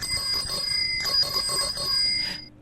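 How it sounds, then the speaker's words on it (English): A bell rings in a bright sustained metallic tone with repeated strikes, close and fairly loud for over two seconds before it cuts off. "When the bell rings."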